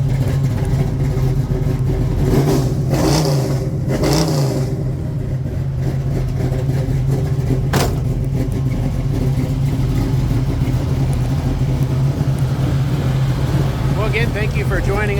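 A 1970 Plymouth Barracuda with a 440 engine rumbles steadily and loudly throughout, its engine note swelling in a few brief revs near the start and middle.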